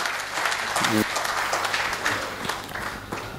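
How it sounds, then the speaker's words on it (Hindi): Mushaira crowd claps to welcome a poet at a kavi sammelan, a continuous, moderately loud round of applause with a brief voice and low hum mixed in underneath. "मुजीब साहब का तालियों से स्वागत करें, हौसला बढ़ाएं"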